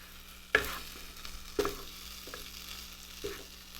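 A crunchy burrito fries in a pan with a quiet, even sizzle, broken by a few sharp scraping knocks of a utensil against the pan.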